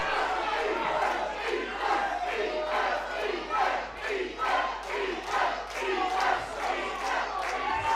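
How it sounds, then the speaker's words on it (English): A pro wrestling crowd at a Christmas show cheers and roars loudly and without a break, the noise surging in rolling waves of shouting and chanting. "The crowd are loving this."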